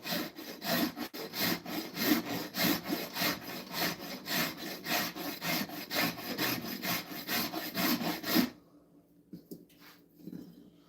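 A file is drawn along the edge of an axe in steady, rhythmic rasping strokes, close and loud, roughly two per second, then stopping abruptly and leaving a few faint handling sounds.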